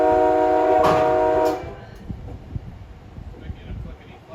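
An MBTA commuter train runs on rails between Stoughton and Boston, a horn sounding briefly at first, then fainter rhythmic wheel clicks and rumble continuing alone.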